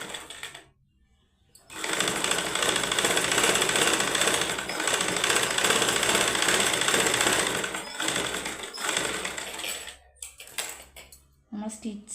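A sewing machine runs steadily stitching a blouse patch piece for 8 seconds, close and loud, with short quiet gaps and handling noises before and after.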